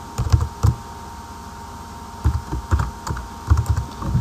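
Bursts of computer keyboard typing while code is entered in Visual Basic .NET, quick clustered keystrokes in three separate runs with pauses between, close and clear over a faint steady hum.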